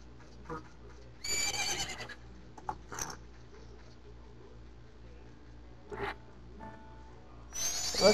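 A horse in The Legend of Zelda: Majora's Mask gives several short bright neighs and whinnies, spaced apart over a quiet game backdrop with faint clip-clop hooves.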